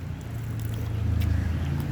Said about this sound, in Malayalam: ഒരു ബോട്ട് വരുന്നുണ്ടേ